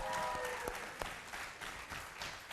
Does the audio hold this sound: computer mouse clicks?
no